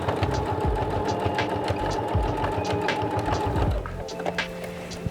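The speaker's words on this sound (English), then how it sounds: "Jump on your machine and do a couple of stitches just to hold that in place." A sewing machine runs a short burst of stitches to tack a dungaree strap in place, its steady rapid needle chatter loud and close before stopping abruptly near the end, leaving a faint hum.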